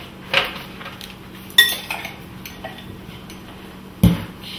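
A knife spreading garlic butter onto bread, quiet scraping strokes broken by a few sharp clinks of metal against a dish, with no talking.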